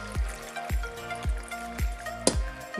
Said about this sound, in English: And I'm just gonna add half a cup of water in there.